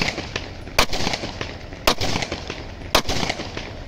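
Single shots ring out from a gun being test fired in single-shot mode, three sharp loud cracks spaced about a second apart, with background noise between them.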